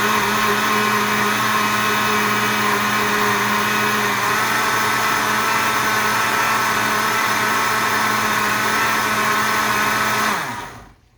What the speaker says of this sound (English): we're just gonna blend that up before we put it in the ice cream maker